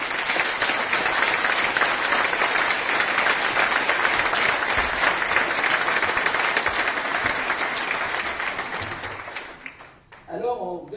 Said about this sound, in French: Vous pouvez les applaudir chaleureusement